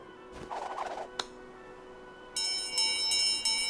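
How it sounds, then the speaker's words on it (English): A bell in the Visions of Mana video game rings out after a short bird-like gobbling call, with bright sustained chimes struck again near the end over quiet background music. "a bell."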